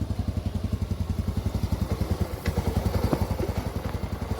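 A rusted, restored Yamaha 100cc four-stroke motorcycle engine runs just after a kick start, with a steady, close, rhythmic thumping putter and some light mechanical clatter.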